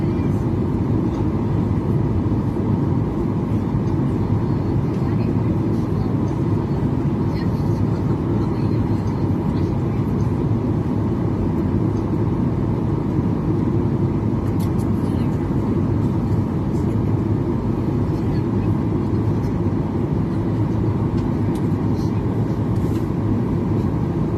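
Steady, loud low-pitched cabin rumble and engine drone on a night flight from Toronto to Vancouver as the plane banks left, constant and unbroken for the whole stretch with no talking.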